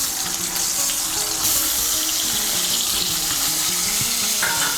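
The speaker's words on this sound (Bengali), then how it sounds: "এই তেলের মধ্যে আমি কাঁচা কলাটাও ভেজে নেব।" Slices of raw green banana fry in hot oil for Bengali dudh shukto, giving a steady, loud sizzle that runs unbroken throughout with no voices.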